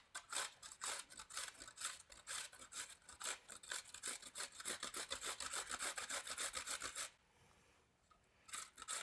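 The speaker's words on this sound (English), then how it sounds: "So yeah, you grate it inside the towel." Quiet, rapid rhythmic scraping comes from a whole cucumber being grated into a towel for Greek tzatziki. It runs steadily for about seven seconds, then stops briefly before starting again.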